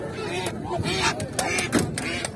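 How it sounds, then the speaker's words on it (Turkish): Muscovy ducks at a poultry market, several short hoarse quacks and honks breaking out irregularly over the background bustle of the market, moderately close. "Lal ördəklərimiz?"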